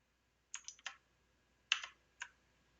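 Computer keyboard keys are pressed for copy and paste shortcuts, a quick cluster of three clicks followed by two more separate clicks, crisp and close in an otherwise quiet room.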